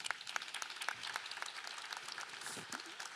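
Audience applause welcoming a panelist at a lifelong-education conference on the climate crisis, a crisp patter of many hands clapping steadily for a few seconds, fairly soft and even.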